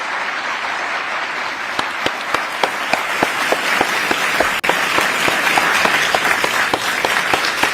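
Sustained applause from an audience at an executive order signing, a dense wash of clapping with sharp individual claps standing out, steady and fairly loud throughout.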